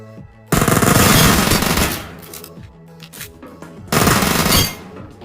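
Automatic gunfire in the mobile shooter PUBG Mobile, two loud close bursts of rapid shots separated by a quieter stretch of game sound.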